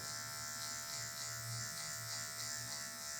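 Electric hair clippers fitted with a number 1 guard buzz steadily and close while cutting hair for a low fade, a continuous high whir.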